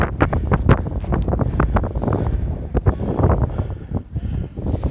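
Strong wind buffets the microphone at a campsite beside a tent, a loud, continuous roar with gusty surges and rustling, no voices.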